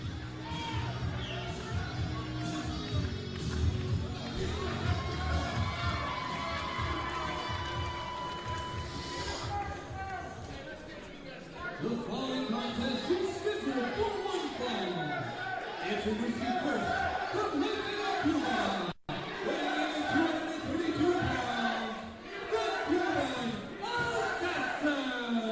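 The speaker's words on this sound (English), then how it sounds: "And you hear this crowd getting all over the Assassin there" Pro wrestling crowd jeering the Cuban Assassin, a mass of shouting, booing voices swelling through the arena, busy and continuous, with a brief sharp dropout near the end.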